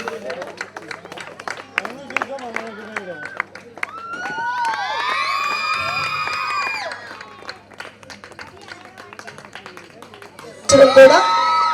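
Crowd at a semi-Christmas celebration in Ongole's Railpet area clapping and cheering, a sustained burst of applause with shouts rising mid-way, set between stretches of amplified talk and music.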